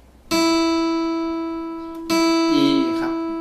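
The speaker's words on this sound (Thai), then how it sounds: "แล้วก็สาย1เสียง E ครับผม" Tuning note for the high E first string on an acoustic guitar, sounded as a reference tone twice: a sustained, harmonically rich pitch that starts loud, slowly decays, then is struck again near the two-second mark, with a brief overlapping plucked note near the end.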